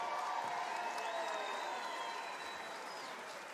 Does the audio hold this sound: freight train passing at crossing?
no